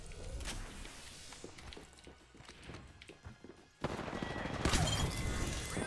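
Bursts of gunfire in Apex Legends, dense rapid shots and thuds at varied distances, growing louder and more sustained in the final two seconds.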